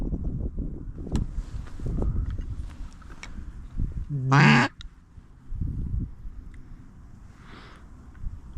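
Mallard ducks quacking in a short, loud burst of repeated calls amid a migrating flock on a November hunt from a sneak boat, heard between other noise and low outdoor rumble, with a faint call later.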